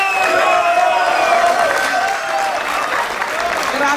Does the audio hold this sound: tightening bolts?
no